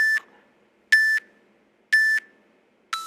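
Workout interval timer beeping three times at steady intervals of about one second, each tone sharp and loud with silence between, then a fourth beep begins at the end; no voices.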